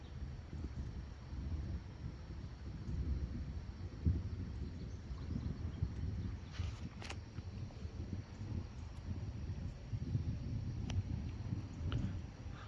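Strong wind from a windstorm rumbles and buffets the microphone in a continuous low roar, with occasional faint rustles and gusts and no speech.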